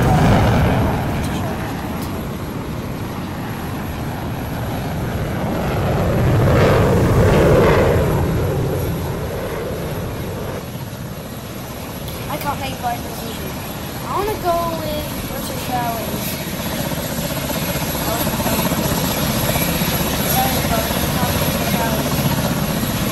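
A Boeing 737 in Pilot Training Flight Simulator produces a steady jet engine roar that swells and fades, with a voice talking over parts of it.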